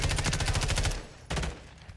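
Automatic gunfire on the Terminal map in Call of Duty: a loud, rapid, evenly paced burst of shots for about a second, a brief pause, then a shorter burst that fades out.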